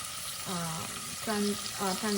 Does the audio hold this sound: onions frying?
yes